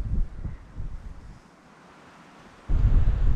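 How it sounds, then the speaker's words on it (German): Strong wind on a clifftop trail high above a lake, roaring in heavy low gusts against the microphone, easing for a moment before blasting back in loudly, with no talk. "Krasser Wind allerdings leider, deswegen ist es heute auch echt kalt"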